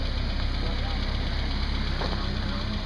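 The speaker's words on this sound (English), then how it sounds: "The world's worst running fuel injected truck." A badly running fuel-injected truck engine idles rough and steady up close, a continuous low rumble with no break.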